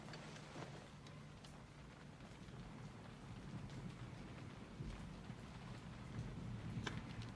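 Steady rain falling, a continuous soft hiss with occasional louder drops, rising slightly toward the end; no voices.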